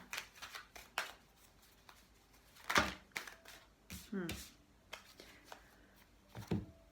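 Tarot cards are shuffled by hand in several short riffling bursts with pauses between them, close and crisp, mixed with quieter handling clicks.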